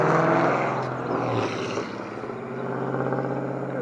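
Low-horsepower vehicle with a loud muffler running at a construction site while new utility poles go in and wires are strung, a steady droning engine note that dips briefly and then holds.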